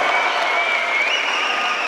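Fight-night crowd at a Fight Zone Blood and Glory event applauds after a knockout, a steady roar of clapping and cheering with a thin, high whistle-like tone running through it.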